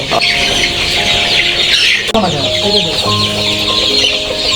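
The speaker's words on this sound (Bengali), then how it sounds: "মুরগি যতটুকু খাচ্ছে তার চাইতে বেশি নষ্ট করছে" Sonali chickens cluck throughout a poultry shed while scattering their feed, a dense, continuous chorus of overlapping clucks and calls, loud and near, with a brief knock midway.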